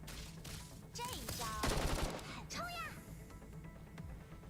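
Gunfire from a Zoids mech combat video game, a burst of synthesized blasts and chirping laser tones over a steady low engine-like drone, with a louder cluster in the middle.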